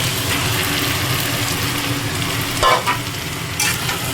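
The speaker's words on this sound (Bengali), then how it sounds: "তো আমি এরপরে দিয়ে দেবো আমার ম্যারিনেট করা চিকেনটা।" Marinated chicken hits hot oil in a pan, giving a constant loud sizzle with a couple of scraping stirs and clinks of a utensil; no voices.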